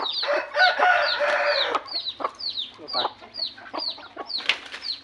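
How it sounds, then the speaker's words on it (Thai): Hens cluck and a rooster crows in a farmyard, the calls coming in a steady rhythm of repeated bursts at moderate distance. "ยังมีไก่ให้ดูอีก"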